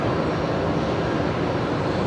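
A plane powering up for takeoff at Brisbane Airport, its engines a loud, steady broadband roar that holds constant without a break.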